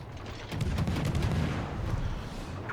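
Rapid destroyer gun salvos in World of Warships, fired from a Harugumo at a Hindenburg cruiser: a dense, continuous barrage of overlapping booms and crackling reports, loud and sustained with no talk.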